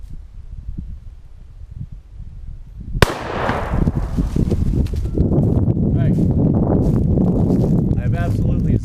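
An 8mm Mauser rifle fires a 1949 FMJ round outdoors: one sharp, loud, close crack after a quiet stretch, followed by a rumbling echo and wind noise.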